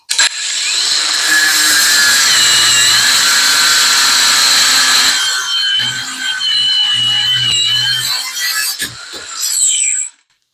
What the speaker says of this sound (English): When we're pushing this through this 1/4 inch piece of steel, it stalls for a second because the motor is overheating.